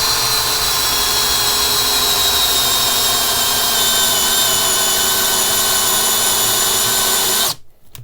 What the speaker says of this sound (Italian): Ok, facciamo un foro da 10 mm, velocità 1, frizione esclusa.